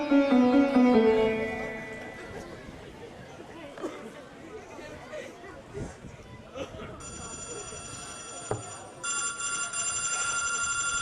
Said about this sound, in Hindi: रीना, मैं अभी पुलिस के पास फोन करता हूँ।